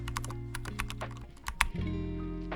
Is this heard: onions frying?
no